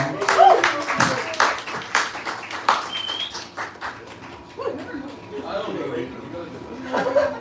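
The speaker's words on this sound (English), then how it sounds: "Please give a huge round of applause for Jamal." Audience at a stand-up comedy show in a Toronto club claps and chuckles as a comedian is brought to the stage, short bursts of applause mixed with laughter and talking.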